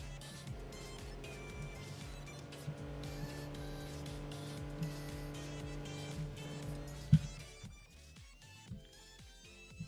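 A car is driven through Wuthering Waves, with a steady engine hum and faint rhythmic ticks, one sharp knock of a crash, then a thinner tone as the car eases off.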